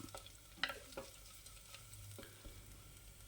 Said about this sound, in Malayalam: വറ്റൽമുളക് പാകത്തിനൊന്ന് മൂത്ത് വരുന്ന സമയം വരെ ഒന്ന് ഇളക്കി കൊടുക്കുക.